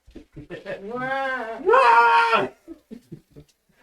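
A person imitates a goat's bleat with a drawn-out, wavering nasal cry lasting about two seconds, close and fairly loud, between bits of casual talk at a brown ale tasting.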